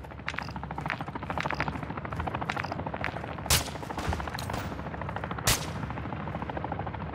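Sustained automatic gunfire in Call of Duty DMZ, rapid rattling bursts with two sharp louder shots, over a steady helicopter-like drone.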